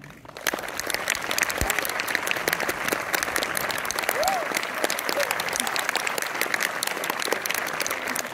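A film premiere audience in Orléans claps steadily and loudly throughout, a dense, even wash of applause from a large crowd, with no pauses.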